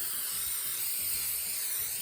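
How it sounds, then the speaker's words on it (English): A continuous hiss of cooking spray onto a cookie sheet sprays steadily for a couple of seconds, close and even, with no talking. "Now let's spray our cookie sheet and get it ready to."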